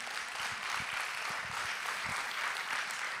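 A church congregation gives a big round of hand claps during a service, a dense, steady wash of clapping that holds evenly throughout at moderate volume, with no voices over it.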